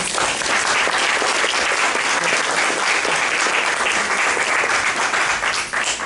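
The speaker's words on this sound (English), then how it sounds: "give them a round of applause." A crowd at a neighborhood association meeting gives sustained, loud applause, a dense steady wash of clapping that holds for about six seconds before easing slightly at the end.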